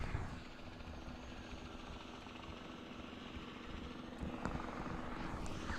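A helicopter approaches Queenstown Airport as a steady, distant rotor and engine drone that grows slightly louder toward the end, with no talking.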